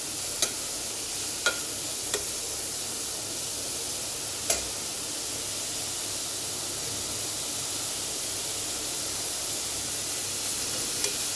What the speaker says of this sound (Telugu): ఆయిల్లో పెట్టుకునే మనం ఫ్రై చేయాలండి.